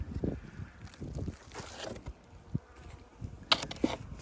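Honeybees buzz close by at a hive on a cold winter day in irregular bursts, hums rising and fading against a quiet background, with a few soft knocks.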